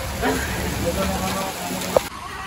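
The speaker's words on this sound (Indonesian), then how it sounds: "Wah, kondisi suasana di Terminal Cicahem hujan besar ya." Heavy rain pours at Cicaheum bus terminal in Bandung, a steady, dense hiss of drops with a brief sharper knock near the end.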